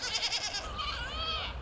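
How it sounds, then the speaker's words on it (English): Goats bleat at a farm in Germantown, Philadelphia, a couple of close, wavering calls in quick succession against a faint outdoor background. "Did you realize there are a lot of goats in Philadelphia?"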